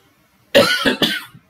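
A single close, sharp cough bursting out in two or three quick hacks after silence.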